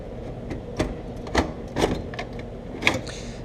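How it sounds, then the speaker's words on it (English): A hard drive is slotted into a drive tray with a series of sharp plastic and metal clicks and clacks, spaced irregularly and fairly close. "we're simply going to slot that back into the drive tray"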